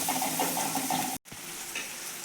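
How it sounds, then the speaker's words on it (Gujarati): Tomato sautéing in oil with garlic and onion in a pan, a soft continuous sizzle with faint stirring, close but quiet, briefly cut by a short gap partway through. "ટામેટાને પણ આપણે 1 મિનિટ માટે સતળાવા દઈશું તેલની જોડે."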